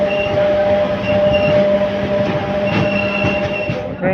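A passenger train rolls along the track toward Changrabandha railway station on a rainy day, a loud continuous rumble with a steady whine and faint wheel squeals, heard from on board.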